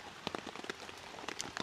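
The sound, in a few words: rain falling at hammock camp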